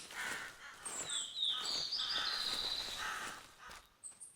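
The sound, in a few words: crows calling in theHunter Classic video game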